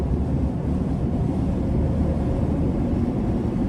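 A steady loud roar of road and wind noise fills the cabin of an LEVC VN5 van driving at speed, a dense continuous drone without breaks and no voices.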